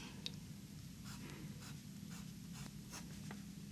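Fountain pen with a 14 karat gold inlaid nib writing on paper, a faint close scratching with short strokes and lifts in an irregular rhythm, heard alone in a quiet room.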